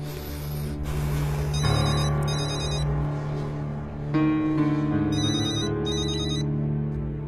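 A phone ringtone plays out loud in a tense Turkish drama scene, repeating in bursts over a low, sustained musical score.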